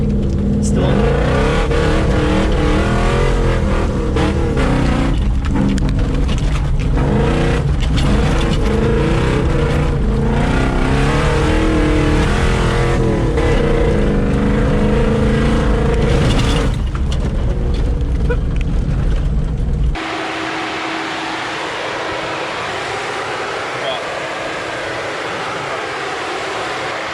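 Toyota Hilux fitted with a swapped 253 V8 engine, off-roading: a loud, close, rumbling V8 drone with rising and falling revs for about twenty seconds, then cutting to quieter steady wind and driving noise.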